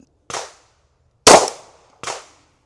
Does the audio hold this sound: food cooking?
no